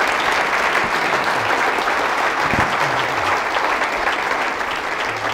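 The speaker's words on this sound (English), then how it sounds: "another round of applause for a great presentation" A crowd applauds steadily, sustained clapping from a large audience that fills the room at even loudness throughout.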